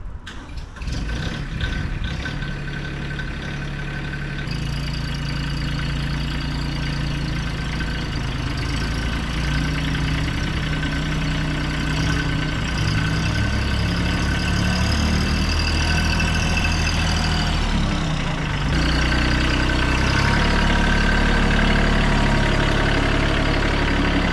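Steady low rumble of a tractor engine idling close by, starting with a few irregular knocks and holding at a constant throb throughout.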